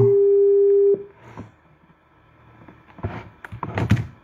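A phone call fails to ring through, giving one loud, steady busy tone for about a second, followed by soft thumps and handling noises.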